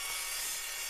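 An Evolution Rage 3 TCT multipurpose miter saw bites through 2.5-inch heavy-wall galvanized steel pipe, giving a brief, steady, bright rasping grind with no voices.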